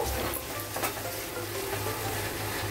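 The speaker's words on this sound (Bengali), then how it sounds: "দিয়ে ভালো করে নাড়াচাড়া করব" Turmeric and spices being stirred in a hot frying pan, giving a steady, close sizzle with faint scraping under it and no voices.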